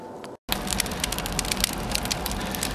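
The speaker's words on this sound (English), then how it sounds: "Now we got the wood stove full of wood. And you can see it's starting to burn in there again" Wood catching and burning inside a freshly loaded wood stove, heard as a close, continuous crackle and pop of burning logs with a steady rushing hiss after a brief cut to silence near the start.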